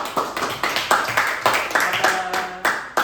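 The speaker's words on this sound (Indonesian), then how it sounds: "Kita beri tepuk tangan." Classroom applause during a micro-teaching lesson: a group claps in quick, steady bursts for about three seconds, fairly close and loud, with a brief voice heard near the end.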